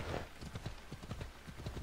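A horse in the video game Assassin's Creed Odyssey gallops with rapid, rhythmic clip-clop hoofbeats, a steady run of quick thuds, fairly quiet and close, without talk.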